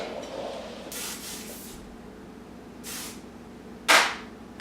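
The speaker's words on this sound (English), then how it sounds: "And I'm going to use my hairspray." Hairspray from an aerosol can misted onto backcombed hair for a sewn-in updo, heard as three separate short hissing bursts, the last one louder and nearer, with no talking.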